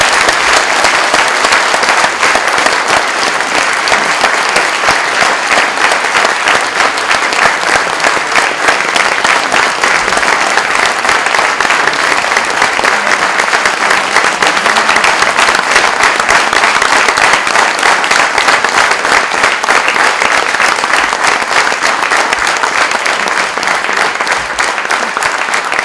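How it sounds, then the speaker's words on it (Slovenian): A Slovenian discussion-evening audience gives sustained applause, dense and even clapping from a crowd that stays loud for the whole stretch. "Lahko še en aplavz"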